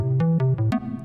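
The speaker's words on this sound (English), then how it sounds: "there's a square pluck in there" A square-wave pluck synth lead from the drop of a song plays a short melodic run of four or five bright, punchy notes with a quick decay, alone and clear.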